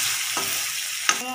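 Tomatoes being stirred into a pan of frying masala for a kundru (ivy gourd) curry, with a steady close sizzle and two brief scraping strokes of the spoon against the pan, no voices.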